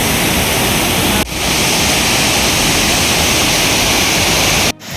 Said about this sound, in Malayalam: അതിരപ്പള്ളിയിലത്തെ ചാർപ്പ ഈ വെള്ളച്ചാട്ടം എന്ന് പറയുന്നു